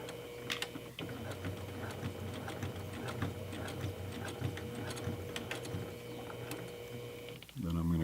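A sewing machine stitches a makeup bag lining seam at a short stitch length, giving a fast, steady mechanical whir and ticking that runs for several seconds before stopping near the end, with someone talking over it.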